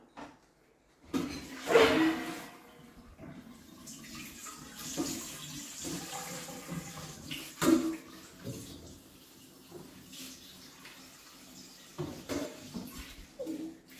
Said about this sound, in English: I love to wash up as I go.